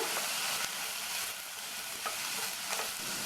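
Cauliflower and potato pieces sauté in a pan with a soft, steady sizzle and occasional stirring scrapes, fairly quiet and close, with no voices.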